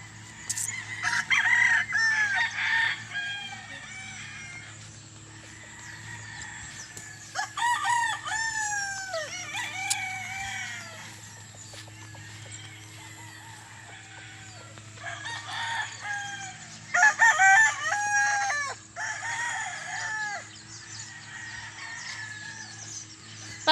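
Fighting cocks crowing on a farm, with two loud, close cock-a-doodle-doos at the start and again later, and scattered clucking and squawks in between over a steady low background hum.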